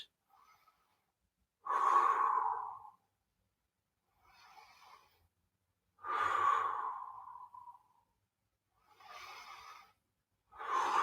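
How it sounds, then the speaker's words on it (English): Deep, slow breaths during a stretching exercise: three long, loud exhales of about a second each, with quieter inhales between them, close and steady with no talking. "Nice deep breaths, at least 3 to 4 deep breaths."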